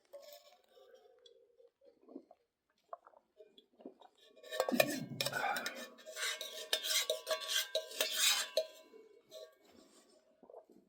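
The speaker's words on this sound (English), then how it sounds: "Clean your cook pot with some coffee." Camp cook pot scrubbed clean with coffee on a winter Great Smoky Mountains hike: a spoon scrapes and rattles inside the metal pot for several seconds, close and clattering, after quiet opening moments.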